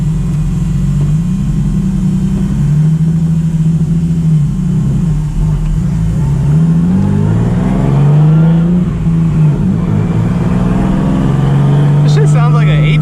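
A 900 hp Nissan 370Z Nismo with a big turbo drones low and heavy while cruising, then surges through several loud accelerating pulls, close and continuous, as someone talks over it.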